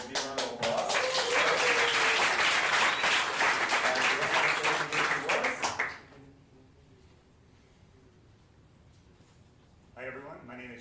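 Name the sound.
audience applause at a meetup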